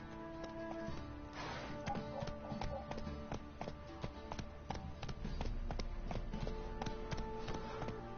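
Horse hooves trotting in The Witcher 3 video game, a steady clip-clop rhythm of distinct taps at moderate distance over a low ambient bed and soft background tones.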